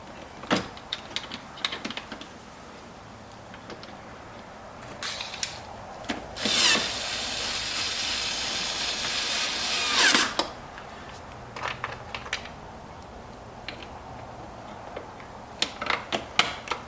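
A powered driver runs screws in while Vette Lights lighting is fitted to a Corvette C7. There are scattered clicks and handling noises, then one loud, steady whir lasting a few seconds before the clicks return.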